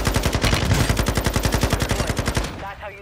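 Rapid automatic gunfire in a shooter video game, a steady burst of about twenty closely spaced shots lasting over two seconds, then cutting off abruptly into near quiet.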